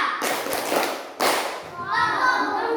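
A classroom clapping chant: a few sharp claps in a rhythmic pattern, struck close and fairly loud, with children's voices faintly mixed in between the beats.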